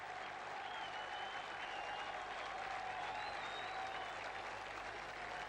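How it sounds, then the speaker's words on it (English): A dense, continuous roar of Greek and London football fans cheering and applauding fills a stadium at Piraeus during a 1970–71 Cup Winners' Cup replay, distant and steady without a break. "the Greeks are cheering as loudly as indeed are the Londoners"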